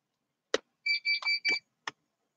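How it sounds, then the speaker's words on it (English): A kitchen timer beeps in a quiet room, a run of four short, high electronic tones in a rapid cluster, framed by a couple of brief clicks or knocks before and after. "My timer's beeping and I didn't even put anything on the time."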